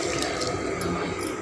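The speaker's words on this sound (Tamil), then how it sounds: "இப்போது இதை தண்ணி ஊற்றி" Water pours steadily into a pot of mutton curry, a continuous splashing rush close by with no talk over it.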